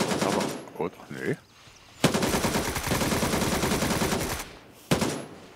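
Sustained automatic gunfire in the video game Gray Zone Warfare, loud bursts of rapid shots filling most of the clip, with brief pauses and a short muttered word from a player.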